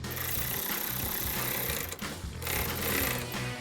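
A power tool with a 13mm socket tightens a bracket bolt while drop steps are installed on a Jeep Gladiator, making a loud continuous buzzing whir with brief dips in the middle, close by, and nobody speaking.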